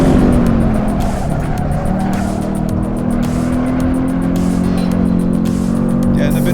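Car being driven hard around a racing circuit on a fast test lap, sliding sideways through the Parabolica corner, with a loud, steady engine drone and a continuous tire squeal, close up and unbroken throughout.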